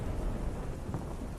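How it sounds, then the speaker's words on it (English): A heavy thunderstorm pours rain in a dense, steady roar with low rumbling underneath, continuous and close, with no voices. "the droplets of rain soon turned to heavy storms"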